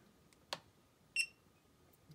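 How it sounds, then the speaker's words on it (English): A quiet click is followed by a single short, high electronic beep from an HT011A radio controller confirming stick calibration, in an otherwise hushed room. "you hear a beep, and the lights go normal"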